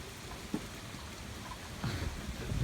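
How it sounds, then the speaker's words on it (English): Rain falling at night under an orange sky in Kansas during a storm, a steady soft wash with a few louder patters and thumps toward the end. "It's raining"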